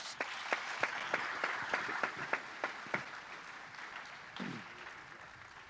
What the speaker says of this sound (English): you deserve another big applause